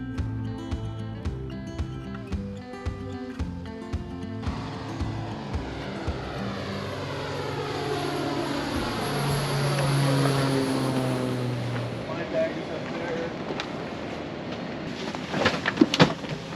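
Propeller airplane engine heard from inside the cabin after boarding, a steady droning hum with shifting tones that swells as the engine revs, continuous and fairly loud, with no one speaking.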